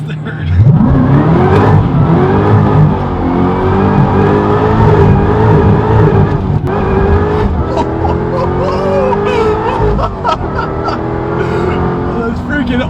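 A supercharged Corvette pulls hard through the gears, its loud engine climbing and dropping in pitch with each shift, heard from inside the car, with occasional excited voices over it.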